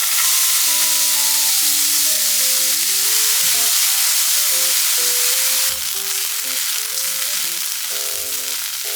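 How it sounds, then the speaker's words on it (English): Diced onion with a little oil and salt stir-fries in a pan, a loud continuous sizzle with a hissy crackle throughout, while melodic background music plays underneath. "let me throw it in a pan and stir fry it until it's translucent with a little bit of oil and some salt"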